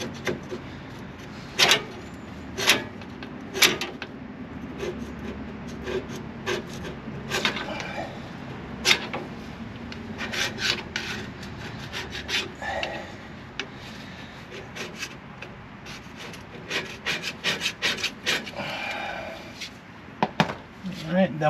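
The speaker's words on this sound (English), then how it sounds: "scrape" Intermittent scraping on a brake backing plate, with short rough rasps and sharp scratchy strokes repeating irregularly at close range, while a person talks in between.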